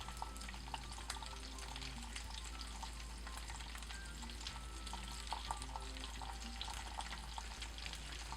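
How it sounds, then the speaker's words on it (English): Butter melting in a pan over low heat alongside steaks with oregano, a faint, steady crackling sizzle with scattered small pops and a low hum underneath. "now we're just going to let the butter melt pretty good on low heat"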